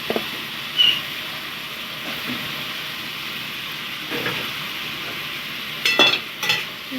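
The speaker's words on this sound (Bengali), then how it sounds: "দিয়ে ভালো করে একটু নাড়িয়ে নেওয়া হচ্ছে।" Garam masala powder is stirred into a vegetarian papaya curry, with a soft continuous sizzle and a few scattered scraping stirs spread out over several seconds, fairly quiet.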